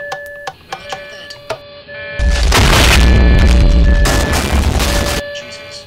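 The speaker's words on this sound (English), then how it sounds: "we may have had an explosion on board" An explosion on board an aircraft in a Minecraft machinima: after a few short beeps, a loud roaring blast erupts and rumbles heavily for about three seconds before cutting off.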